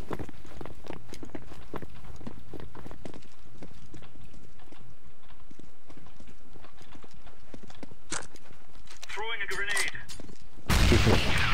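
A grenade in the video game HFC Mythic bursts in a loud, heavy blast near the end, after a busy stretch of game noise with clattering hoof-like steps and scattered shots.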